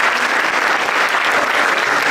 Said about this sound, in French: Je vous invite maintenant à applaudir ainsi que l'ensemble des participants